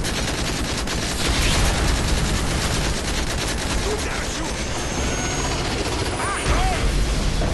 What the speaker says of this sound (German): Feindlicher Helikopter in Anflug.